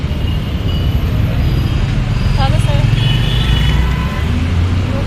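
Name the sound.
road traffic in Hadapsar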